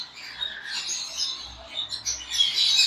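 Small pet birds at a bird breeder chirp and twitter continuously in a busy, high, scratchy chorus, fairly close and without talk over it.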